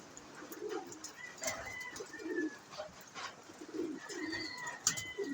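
Soft pigeon cooing rises and falls in repeated low bursts, mixed with faint higher chirps in a quiet, enclosed space.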